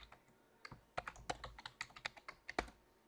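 Keys tapped on a computer keyboard while logging into an ESXi server, a quick irregular run of crisp clicks at close range in a quiet room.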